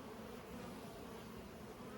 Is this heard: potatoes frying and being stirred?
no